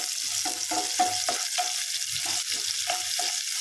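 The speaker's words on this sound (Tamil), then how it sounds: "சேர்த்து நல்லா வதக்கி விட்டுக்கணும்" Crushed onions sauté in a pan for an egg curry, a close, steady frying hiss broken by rhythmic scraping strokes of a spatula about every half second.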